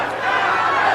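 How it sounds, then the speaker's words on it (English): Boxing arena crowd at a Golden Boy fight night, a brief loud roar of many voices cheering. "You hear the crowd."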